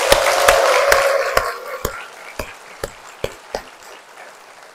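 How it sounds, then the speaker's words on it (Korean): A Catholic church congregation in Incheon applauding, the crowd clapping thinning into a series of slow, evenly spaced loud claps before fading out. "더 크게 박수 칩시다."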